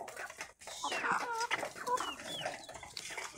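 Chickens cluck and squawk close by at a poultry farm, a busy overlapping chorus of short calls over about three seconds, with no talk.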